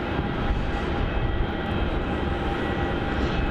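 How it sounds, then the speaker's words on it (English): A Qantas Boeing 737-800 in new livery departs runway 27 at Melbourne Airport, bound for Sydney; a loud, steady broadband jet roar fills the whole stretch without letting up. "Our next departure on runway 27 is going to be QF442 heading up to Sydney"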